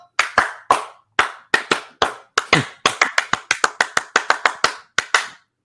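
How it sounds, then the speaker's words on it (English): A quick run of sharp, close hand claps in an uneven rhythm, some spaced out and others bunched, with no talking over them. "They get that clap, baby. That clap."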